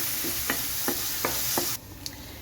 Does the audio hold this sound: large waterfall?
no